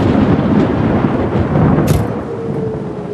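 Rolling thunder over steady rain in a Korean drama scene, a loud deep rumble that swells and fades, with a brief crackling burst near the middle and rain hiss continuing after.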